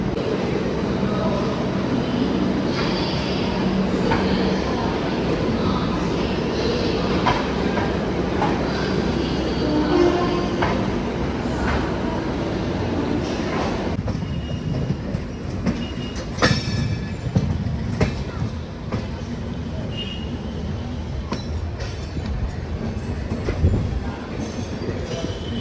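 Charminar Express 12579 runs along the rails from Chennai, a steady loud rumble of wheels and carriages with occasional squeals and clacks, heard from onboard.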